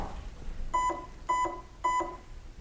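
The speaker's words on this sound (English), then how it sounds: "The airsoft gun beeps at me a few times." Three evenly spaced electronic beeps from an Arcturus Karambit Mod1 FE airsoft AEG as its battery is plugged in, clear and close against a quiet background.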